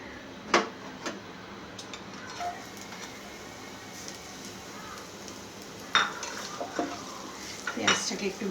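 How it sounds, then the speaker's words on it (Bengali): Chopped onion cooks in oil in a frying pan under a soft, steady sizzle. A spatula taps and scrapes the pan now and then, clearest in a few sharp knocks. "পেঁয়াজটাকে একটু ভেজে নিচ্ছি।"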